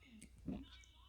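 A cat lets out a short, quiet meow while biting and playing, faint and close, with a voice nearby.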